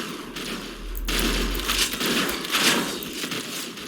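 Gunfire in a video game, a sharp burst of shots followed by a sustained crackling rattle of repeated fire with low thumps, loud and close.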